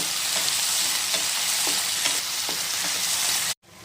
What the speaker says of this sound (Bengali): এখন চার পাঁচ মিনিট ধরে এগুলোকে ভালো করে ভেজে নেব পেঁয়াজ আর রসুনের সাথেই